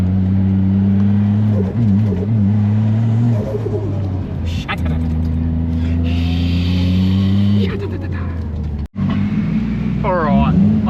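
A drift car's engine drones loud and close with strong steady harmonics, shifting pitch as it revs, broken by a sharp turbo blow-off whoosh and a brief cut near the end before the engine returns.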